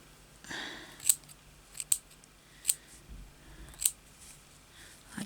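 Scissors cut paper moth pieces with five or six sharp, close snips spread evenly over a few seconds in a quiet room.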